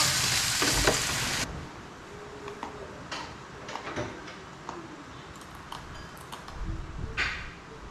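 Loud sizzling of potato chips frying in hot oil in a pot for the first second and a half, then quieter crackles with scattered clinks and utensil clatter.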